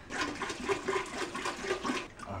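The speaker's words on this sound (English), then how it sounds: "Let's pour some more water inside now." Water is poured into a home aquarium during a large water change, a continuous gurgling splash with slight pulsing, moderately loud and close, with no voices.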